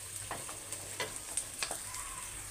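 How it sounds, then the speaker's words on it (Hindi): Onions frying gently in a pan until pink: a soft, low sizzle with a few light stirring scrapes, close but quiet. "अभी प्याज हमारी ये पिंक हो गई"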